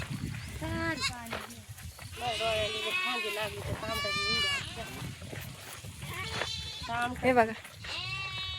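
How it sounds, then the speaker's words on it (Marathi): Goats and a young kid bleat repeatedly, close by, during a walk home from the fields, with several wavering calls overlapping as people talk throughout. "हे बघा शेळीचं पिल्लू पण आमच्या सोबत चालले"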